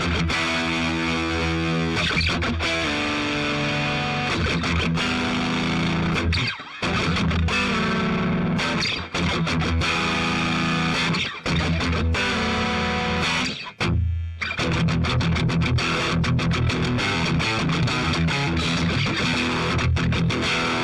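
Electric guitar riff through the VOX Cambridge50 amplifier's SLOD amp model, loud distorted chords with a strong midrange, heavy low chords ringing out with only brief gaps, no voices.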